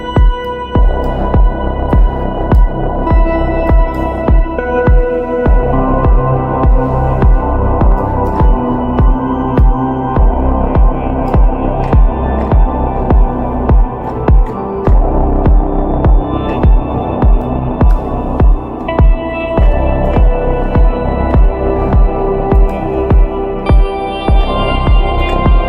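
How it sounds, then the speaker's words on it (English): Deep techno synth line drenched in a huge, trippy big-room reverb, with a dense, loud, continuous throbbing low end and sustained tones pulsing steadily throughout, no voices. "put like a big reverb, silver reverb here with my grandiose preset, a really big room, really trippy"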